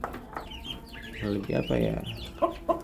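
Muscovy ducklings about a week old peep in short, high chirps at close range, a few calls rising above a low background murmur and faint voice-like sounds while they are moved to a new feeder.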